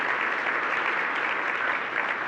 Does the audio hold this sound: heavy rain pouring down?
no